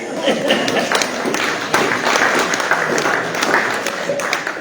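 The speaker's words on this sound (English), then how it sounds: "So give yourself a round of applause for your good behaviour." A crowd applauds steadily, a dense wash of clapping that holds at an even level throughout, with some voices mixed in.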